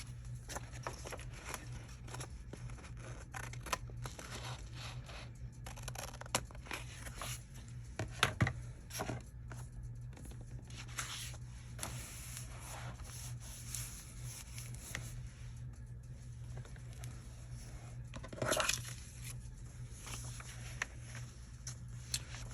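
Faint cutting of excess paper from a musical program pamphlet being turned into a journal page: soft, scattered snips and rustles close by, over a steady low hum in a quiet room.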